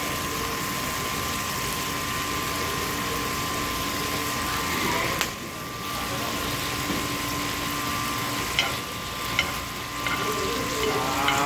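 Yellowtail head pieces and prawns sizzle steadily in a hot pan as soy sauce goes in, with a constant crackle, occasional stirring clatter and a low background hum.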